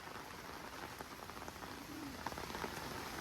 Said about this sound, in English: we really needed the rain